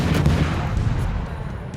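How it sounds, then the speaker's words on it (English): Warship guns fire at an enemy ship in World of Warships, a heavy booming blast at the start followed by a long rumbling decay with a few fainter shots behind it. "There's some gunfire into the side of the Izuma."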